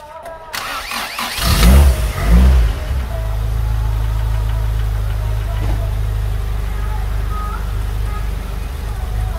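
A car engine, used as a vacuum source through its intake manifold, cranks briefly and catches with a loud burst. It then settles into a steady, even idle that hums on close by.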